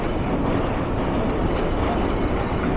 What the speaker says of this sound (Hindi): ये अवाम एक्सप्रेस आ गई है